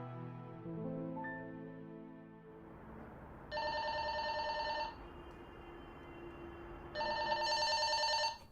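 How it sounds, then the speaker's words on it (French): A telephone rings indoors in two clear, loud electronic bursts separated by a pause, following a few soft musical tones at the start. "Maman, téléphone!"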